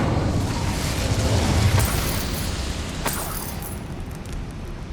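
Fire spell burst in the fantasy game Hogwarts Legacy, a sustained roaring whoosh with crackling rumble and a couple of sharp flares, loud and close with no voices.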